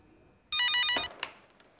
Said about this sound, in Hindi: हो सकता है मेरा नाम देखकर फोन ना लें। मैं नर्सिंग होम फोन करती हूँ।